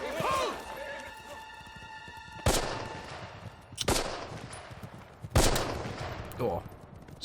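Gunfire from a Band of Brothers war scene in the Bois-Jacques woods near Foy: three loud, sharp shots spaced about a second and a half apart, each trailing off into a rumbling echo, with faint voices in the background.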